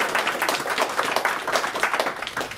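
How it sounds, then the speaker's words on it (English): An audience at an atheism politics panel event gives a round of applause: dense, fairly faint clapping from many hands that carries on steadily for a couple of seconds. "Let's give them a round of applause"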